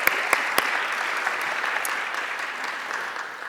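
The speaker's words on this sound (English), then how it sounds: "Yes, round of applause" A school board meeting audience claps for a teacher, dense steady applause with a few sharp individual claps standing out near the start, fading slightly toward the end.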